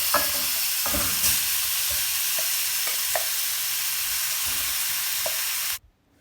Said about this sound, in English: add the oxtail and then we're going to sear it